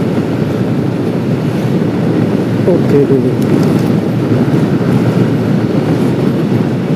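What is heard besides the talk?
train passing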